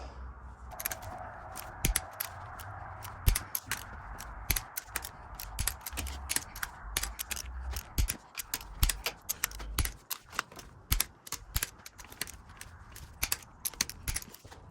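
Head bolts on a Farmall Cub tractor engine being tightened with a torque wrench to 45, giving a steady run of close, sharp ratcheting clicks in quick bursts with brief pauses.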